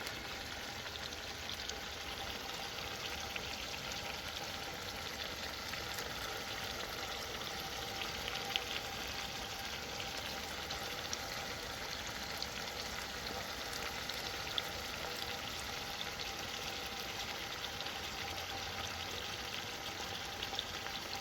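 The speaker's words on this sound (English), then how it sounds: "Let it soak in that butter bath, onions and seasoning, butter." Fish frying in a pan in butter with onions and seasoning over an outdoor campfire on a mountain: a steady, faint, continuous sizzle that runs unbroken with no talking.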